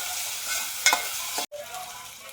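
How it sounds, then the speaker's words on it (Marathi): A ground coconut masala paste fries in oil for Malvani chicken, with a soft close sizzle, a brief scrape of the spatula and a short cut partway through. "तेलामध्ये हे वाटण आहे ना चांगलं फ्राय करून घेऊया"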